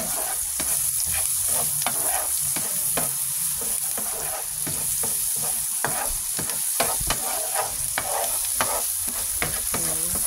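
Garlic sautés in a pan with a constant close sizzle, broken by frequent scraping and stirring clicks from a utensil, with no voices.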